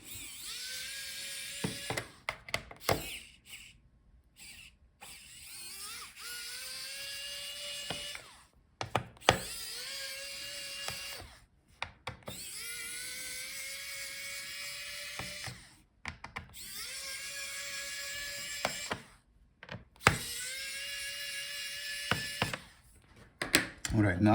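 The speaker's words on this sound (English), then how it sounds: "So we have to open the bottom case. So unscrew all the screws." A powered screwdriver backs out the bottom case screws of a Dell Precision 3490 laptop, in about half a dozen separate whining bursts. Each burst rises in pitch as it spins up, with short gaps between screws and faint clicks in between.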